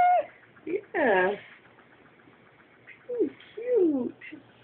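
A small kitten meows several times in short, high cries spread across a few seconds, with people talking nearby between and around the mews.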